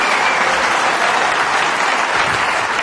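A snooker crowd at the World Championship semi-final breaks into steady, dense applause after a brave shot, a continuous wash of clapping from a large audience filling the hall, with no voices standing out.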